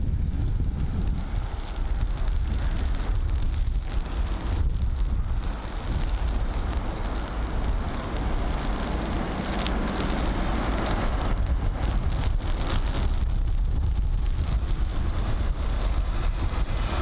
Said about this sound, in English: And the wind is definitely getting much heavier now, as well as the rain as well.